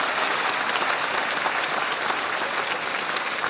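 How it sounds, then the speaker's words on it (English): An audience at a community college commencement ceremony claps in steady, dense applause that holds at an even level throughout, with no voices standing out. "Let's give a round of applause for Kelvin."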